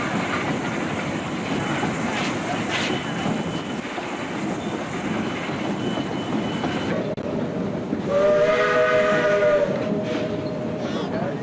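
Train rumble and rail clatter on the Georgetown Loop Railroad, then a loud, sustained steam locomotive whistle blows near the end, its tone ringing out over the rolling noise and echoing in the valley.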